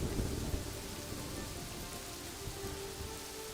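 Steady rain falls in the city-building game Kingdoms and Castles, a continuous soft hiss of drops with a low rumble underneath, even and unbroken throughout with no voices.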